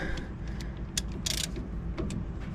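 A socket wrench ratcheting on a 12 mm metric bolt on a 1982 Dodge Ramcharger W150, faint quick clicks and a short burst of ratcheting over a low rumbling background.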